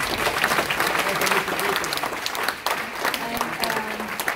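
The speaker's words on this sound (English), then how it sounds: "So please give the panel a warm applause." Audience applause for a panel at an event on agriculture and youth entrepreneurship in Africa, a brief burst of clapping with voices mixed in.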